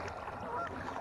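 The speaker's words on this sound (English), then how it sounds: "The geese swimming around this morning." Geese swimming on a lake honking over a wash of outdoor background noise, a few overlapping calls at moderate distance, brief and fairly faint.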